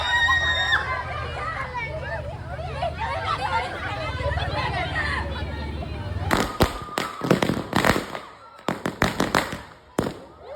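A crowd chatters and shouts at a hostel Diwali celebration, then a rapid series of loud, sharp firecracker bangs bursts out close by, in quick clusters.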